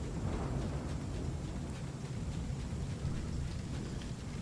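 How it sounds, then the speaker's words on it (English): Rain and a thunderstorm in the Ark Survival Ascended video game, a steady hiss of rainfall over a low rumble of thunder, continuous and moderately loud. "I wonder if this is a storm. I think it is a storm."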